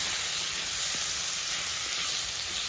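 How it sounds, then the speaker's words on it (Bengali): Pumpkin, eggplant and potato fry in hot oil with garlic, giving a steady, close hiss of sizzling throughout with no voices. "এগুলো একটু ভাজা ভাজা করে নেবো"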